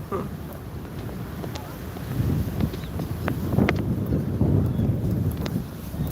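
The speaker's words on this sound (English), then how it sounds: "Wow, the wind." Strong gusting wind buffeting a microphone on an Istanbul street, a steady roar that swells louder midway, with faint background bumps.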